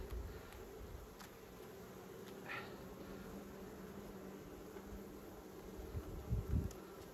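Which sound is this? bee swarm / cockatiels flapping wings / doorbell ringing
bee swarm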